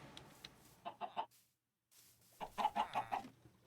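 Chickens in the game Minecraft give two short runs of soft, faint, rhythmic clucks, separated by a moment of silence.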